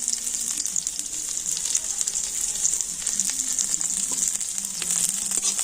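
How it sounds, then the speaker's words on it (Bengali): Sliced onion and two green chillies fry in a pan over cumin seeds that are already browned. A steady, close sizzling hiss holds throughout. "এবার দিয়ে দিচ্ছি পেঁয়াজ আর দিয়েছি দুটো কাঁচা লঙ্কা"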